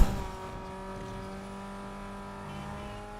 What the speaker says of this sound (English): Just literally slamming on the brakes.